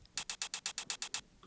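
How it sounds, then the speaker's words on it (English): A hi-hat sample taken from a drum break record ticks in a quick, even run of about nine crisp, bright hits, fairly quiet over faint background hiss. "from the same drum break I also took a hi-hat"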